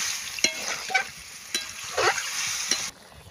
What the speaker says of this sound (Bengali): এবার দিচ্ছি পরিমাণ মতো জল,